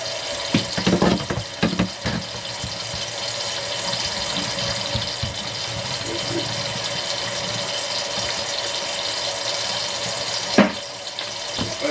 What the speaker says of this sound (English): So let's run some water,